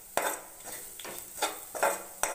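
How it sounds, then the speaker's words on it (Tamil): A spatula scrapes and knocks against a pan while masala is stirred for garlic rice, giving five or six distinct close metallic strokes over a soft background hiss. "நல்லா இந்த மசாலாவோட பச்சை வாசனை போகிற வரைக்கும் மிக்ஸ் பண்ணி விடணும்."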